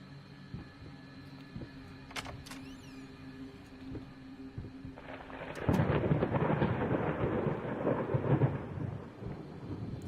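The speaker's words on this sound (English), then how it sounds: "Thunder and lightning" In the horror video game Layers of Fear, a low, quiet ambience gives way to a sudden heavy roll of thunder that rumbles loudly and broadly, sustained with a rain-like hiss to the end.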